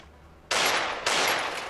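Two loud, sharp bursts of Desert Eagle pistol gunfire in the Free Fire shooting game, each crack followed by a sustained broadband tail, spaced about half a second apart.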